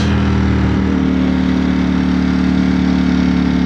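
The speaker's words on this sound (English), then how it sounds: "Alright, so Ducati Streetfighter V4S." A Ducati Streetfighter V4S motorcycle engine runs steadily at a low, even pitch, a loud, close, continuous throbbing hum with no voices.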